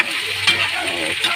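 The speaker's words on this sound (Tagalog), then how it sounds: "tapos halo-haloin naman natin mga guys, no. Haluin naman natin." Squid frying in a pan is stirred, giving a continuous bright sizzle with scraping movement up close.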